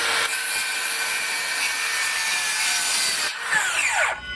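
A loud, continuous DeWALT DCS575 cordless circular saw whines through wood for a few seconds, then the blade winds down near the end.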